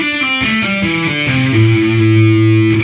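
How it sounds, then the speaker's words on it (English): Distorted electric guitar plays a descending legato run of pull-offs with no picking, smooth stepwise notes falling to a sustained low note, loud and close with no talking. "see if you can come down the fretboard without actually picking it all"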